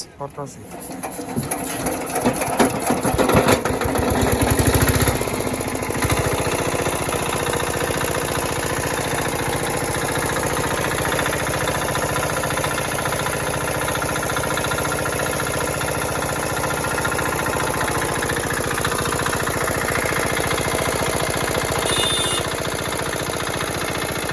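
An old Chinese 4 HP diesel engine starts with sputtering bursts, then settles into a steady, rapid mechanical idle that runs on, close and fairly loud.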